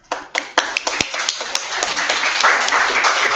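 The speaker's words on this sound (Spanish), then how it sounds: "Muchas gracias a todos por ese aplauso." Applause from an audience at an arts congress, starting with a few separate claps that quickly build into steady, fairly close clapping from a modest-sized group.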